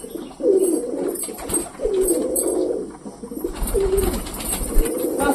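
Pet green pigeons coo in a series of low, throaty calls, about four rolling coos spaced evenly and heard close by over soft background noise.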